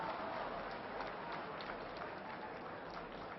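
A crowd at a wrestling match applauds a hold, a faint, dense patter of clapping that runs steadily throughout, heard from a distance.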